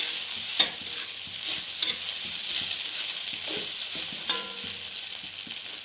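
Ragi semiya mixed with grated coconut in a pan, a soft constant sizzle with the occasional scrape and tap of a spoon as it is stirred.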